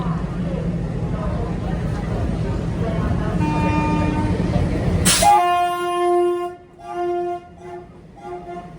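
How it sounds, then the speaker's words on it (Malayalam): A shunting locomotive's loud horn blares in long tones amid station rumble and background voices at Gomti Nagar Railway Station, Lucknow, stopping and restarting a few times. "ഇതെല്ലാം നമ്മുടെ ട്രെയിനിൻ്റെ ലോക്കോമോട്ടീവ്. ഇത് ഷണ്ടിങ് ലോക്കോയാണ്."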